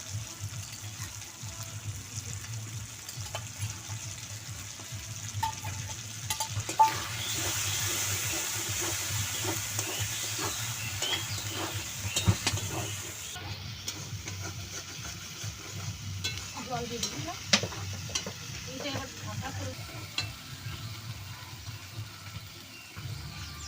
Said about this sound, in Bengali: আমি এবার দিয়ে দিচ্ছি পটল পটলগুলো দিয়ে খুব ভালো করে আর কষিয়ে নেবো